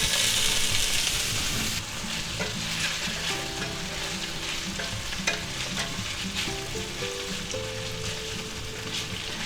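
A spicy beef, broccoli and mushroom stir fry hissing after a splash of rice wine hits the hot pan, loud sizzling at first that settles into a steady crackle with light stirring.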